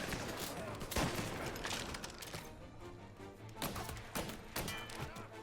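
Gunfire in the video game Mafia: Definitive Edition, bursts of rapid shots cracking out at irregular intervals over a rumbling game background, close and fairly loud.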